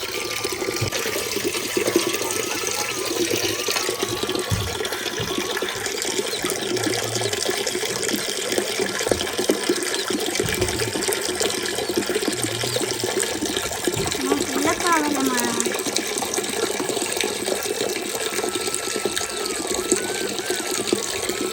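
Fresh water flowing steadily into a freshly cleaned tank, a continuous loud rushing splash that runs unbroken throughout while a voice talks over it.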